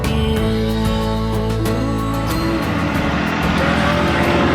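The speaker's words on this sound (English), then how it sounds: "you can see the trucks just were passing along" Road vehicles, including trucks, rush past along a coastal highway near the Nazca Lines in Peru, a loud continuous engine and tire roar with layered tones shifting as they go by.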